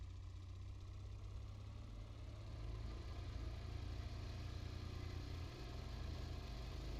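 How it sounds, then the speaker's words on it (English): A go-kart engine in the video game Scrap Mechanic idles and runs with a steady low droning rumble and faint rattle, fairly quiet and continuous throughout, swelling slightly partway through, no voices. "now we can hear the engine. Yeah, it's a freaking go-kart engine, sounds like"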